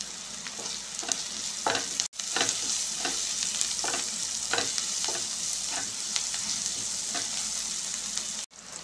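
Chopped green chillies frying in an open pan for carrot methi pulav, with a steady close sizzle broken by repeated scraping stirs of a spatula. No voices.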